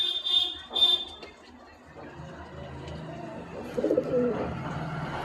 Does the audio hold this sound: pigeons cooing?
yes